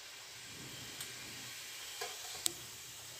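Cumin seeds sizzle in about a tablespoon of hot oil in a heated cooking pot, a steady, faint frying hiss with a couple of small pops and stirring taps.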